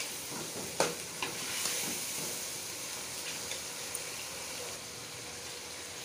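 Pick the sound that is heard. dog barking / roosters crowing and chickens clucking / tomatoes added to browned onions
tomatoes added to browned onions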